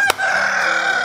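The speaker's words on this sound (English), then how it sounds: "it'll basically scream and it sounds like a rooster" A phone alarm app plays a loud, close rooster crow after a brief sharp tap, one sustained cock-a-doodle-doo call with no talking.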